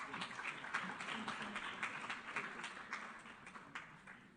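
An audience at a United Nations climate-education event applauds a panel, a fairly faint spread of many clapping hands with individual claps standing out, steady and then gradually thinning.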